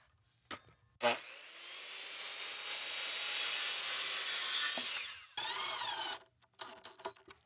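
Wood pieces being cut for a small platform in a DIY camper build, a rasping saw stroke that swells and holds for several seconds, then a shorter burst, with a few faint knocks around it.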